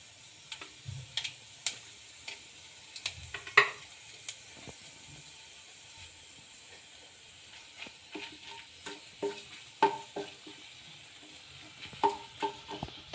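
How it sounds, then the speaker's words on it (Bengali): Dried red chillies and five-spice tempering crackle in hot oil, with a light continuous sizzle under irregular spluttering pops and occasional utensil taps, close by and fairly quiet, without any voices. "আমি শুকনো লঙ্কা আর যে ফোড়নটা রেখেছিলাম ওইগুলি দিচ্ছি।"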